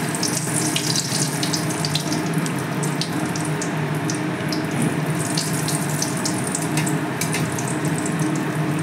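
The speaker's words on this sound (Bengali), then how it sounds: "আমি এবার ভাজতে থাকি বাকিগুলো" Semolina malpoa batter fries in hot oil, giving a steady, close sizzle with scattered crackling pops that runs unbroken throughout, with no talking.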